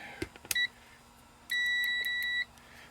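A multimeter set to continuity test gives a few short clicks, then a steady electronic beep that holds for about a second at close range in a quiet room.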